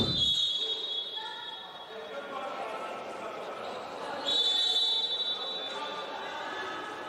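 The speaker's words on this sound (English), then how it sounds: "One more time, we have whistles here." Referee's whistle shrills twice during a FIBA Africa women's basketball game, a bright sustained tone near the start and again midway, over steady arena crowd noise.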